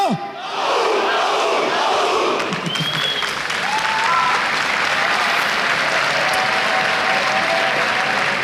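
A live audience at a League of Legends LCS 2013 EU Summer esports match applauds and cheers in a loud, sustained roar of clapping and shouting that fills the hall from start to finish.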